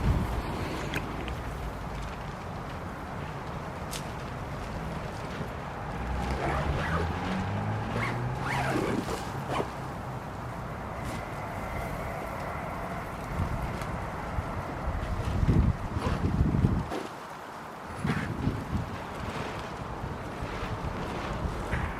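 A polytunnel door is shut on a windy allotment, with scattered knocks, rattles and plastic flapping over a steady low wind rumble, fairly close and moderately loud, with no talking.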